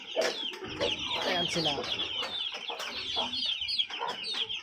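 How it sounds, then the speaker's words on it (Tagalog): Chicks and two-month-old backyard chickens cluck and peep in a busy, overlapping chorus, close and fairly loud, while a person talks briefly over them. "Mga sisiw."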